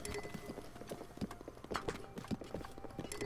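Horse hooves clip-clop in Zelda: Breath of the Wild, a steady run of sharp knocking steps at close-to-mid range, heard alone with no talk over them.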